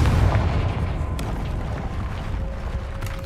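A Confringo fire spell explodes in the Hogwarts Legacy video game on hard mode, a loud booming blast that fades into a rumbling tail over a few seconds.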